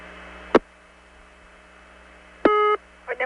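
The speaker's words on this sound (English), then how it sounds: "This call goes to operator intercept with an unusual tone when the operator answers" An unusual tone on a long-distance telephone call routed to operator intercept: a short click, a low mains-like hum, then a brief steady multi-pitched tone burst before the line continues.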